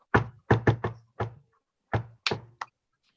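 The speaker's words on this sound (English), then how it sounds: "He knocked on Alligator's door." Knocking on a wooden door during a children's story: a quick cluster of five raps, a pause, then three more, close, crisp and hollow against silence.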